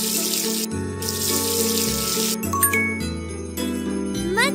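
Water runs from a tap in a princess dress-up game as a face is washed, a steady hiss broken by short gaps, with cheerful game music and light chimes playing throughout.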